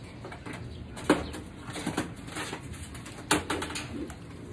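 Pigeons or doves coo in a group, with soft repeated calls, scattered rustling and two sharper knocks or wing flaps, heard nearby.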